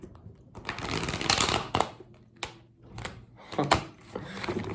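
Tarot cards are shuffled in several bursts of riffling and flapping, close and fairly quiet, with short pauses between.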